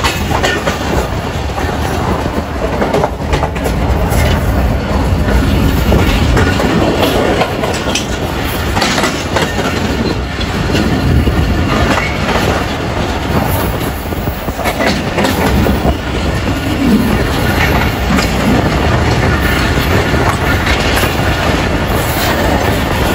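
A Pakistan Railways passenger train runs along the tracks, making a steady, loud rumble with continuous wheel clatter and rattling carriages for the whole stretch.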